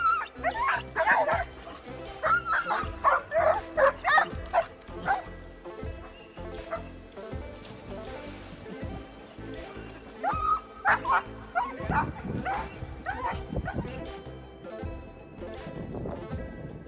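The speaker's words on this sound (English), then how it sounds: "This man has two overprotective dogs that aren't too happy with him swinging into the river." Two dogs bark and yip repeatedly in excited bursts by a river, fairly close, with some whimpering between volleys and a busy outdoor background.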